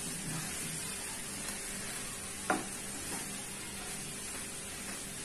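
Mixed vegetables frying in a pan for a pepper fry make a faint, steady sizzling hiss, with one short utensil clink partway through.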